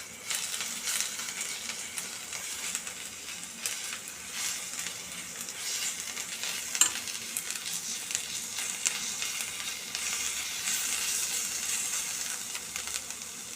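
Broad beans (chikkudukaya) frying in a pan with salt and chili powder, giving a continuous soft hissing sizzle at moderate level with occasional faint stirring scrapes.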